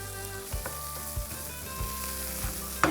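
Prawns sizzling in olive oil for Goan balchao, a steady close-up crackle of frying with a few soft stirring knocks and a brief clink near the end; no one speaks.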